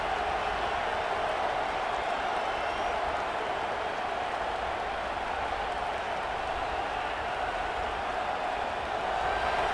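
Stadium crowd noise in a college football video game, USC against Oregon, a steady broad roar of cheering that holds level throughout with no speech over it.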